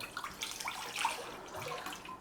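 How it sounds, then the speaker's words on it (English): Water pours into a cooking pan for sausages, a short, soft splashing trickle that swells slightly midway. "We are going in here with some water."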